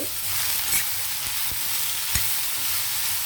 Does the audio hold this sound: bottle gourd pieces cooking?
yes